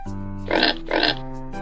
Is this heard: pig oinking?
yes